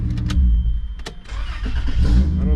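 A Toyota Land Cruiser that had sat unused for years cranks and fires up, a brief starter whir followed by the engine catching and settling into a loud, close, rumbling idle.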